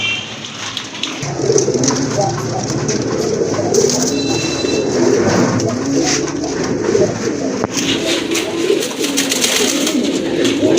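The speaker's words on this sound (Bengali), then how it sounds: "আরেক জোড়া কবুতর দেখতে পাচ্ছেন এখানে" Pigeons coo repeatedly at close range at a pigeon sale, soft low throaty calls overlapping against a steady background hiss.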